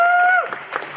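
A short burst of audience clapping at a Rose Parade float move-out ceremony follows a brief held tone, the applause thin and scattered for well under a second.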